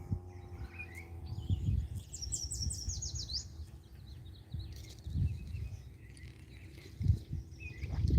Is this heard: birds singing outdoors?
yes